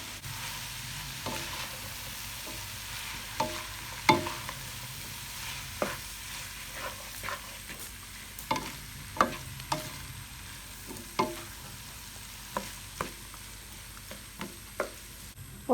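Chicken vegetable noodles with spaghetti, chili garlic sauce and soy sauce being stir-fried in a pan: a steady low sizzle runs throughout, punctuated by regular sharp spatula scrapes and clinks against the metal.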